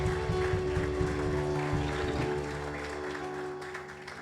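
A church congregation clapping hands as an offering of praise, steady hand claps blended with a sustained musical drone and low hum, gradually easing in intensity.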